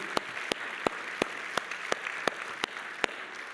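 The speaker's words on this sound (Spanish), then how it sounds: "dale un fuerte aplauso" Congregation applause at a church sermon, heard as a steady wash of crowd clapping with sharp, regular accented claps punctuating it roughly every third of a second, fairly faint and continuous throughout.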